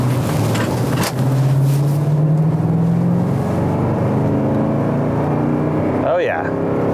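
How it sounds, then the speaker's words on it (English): A 2008 Toyota Sequoia SUV's V8 engine hums steadily from inside the vehicle, its low drone rising briefly in pitch early on, with a short voice-like tone near the end. "The engine doesn't sound as refined as I thought it would"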